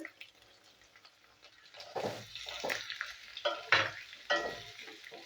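Chopped onion and green chilli frying in a pan, a soft sizzle broken by several spatula stirs and scrapes that come in bursts, close and moderately loud.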